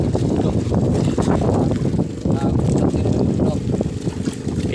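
Gusty wind with light drizzle roars and buffets outdoors at night on a tuna handline fishing boat in a steady broad rush, loud and close, with faint knocking and low rumbling underneath.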